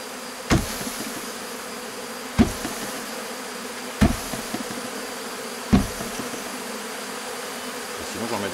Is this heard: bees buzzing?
yes